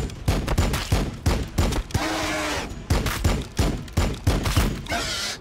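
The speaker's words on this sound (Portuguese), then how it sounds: "Firing on the enemy." Gunfire in the strategy game Warhammer 40k Battlesector comes as repeated loud, close shots in quick rhythmic volleys, punctuated by a couple of longer, sustained bursts.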